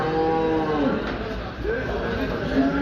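Cattle at a livestock market in Düzce, Turkey, with a cow lowing in drawn-out moos amid market background noise and nearby voices.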